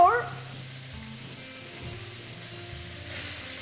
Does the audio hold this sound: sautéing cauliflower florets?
yes